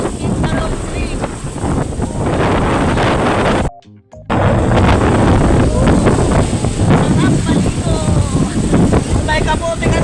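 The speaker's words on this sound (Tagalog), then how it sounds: "Rinig nyo ga naman diyan ang pagkakalakas naman ng hangin" Strong wind gusts roaring steadily into an outdoor microphone during a rainstorm, loud and continuous with a brief dropout partway through, under faint talk.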